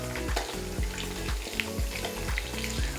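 Chicken kebabs fry in oil with a continuous bubbling sizzle, punctuated by repeated low thuds and clatters of utensils handling the pan, with no talking.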